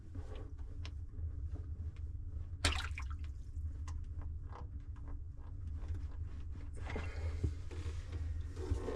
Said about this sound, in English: Pull the cork. Let it drain out.